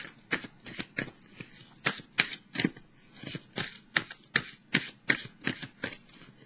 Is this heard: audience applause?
no